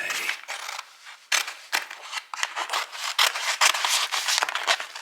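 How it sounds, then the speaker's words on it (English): Scissors cut through mushroom-patterned wallpaper in a quick series of close, rasping snips and paper rustles, loud and dense, with no voices. "Using the scissors. I'm cutting mushroom wallpaper in here."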